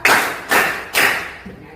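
A classroom of schoolchildren performs a clapping routine, three loud, sharp bursts of group claps at an even rhythm about half a second apart, followed by a fainter fourth clap.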